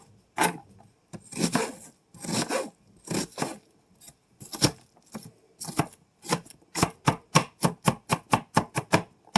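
A knife chops half an onion on a board in a home kitchen, first in irregular bursts of cuts and then in a quick, even run of sharp, close taps.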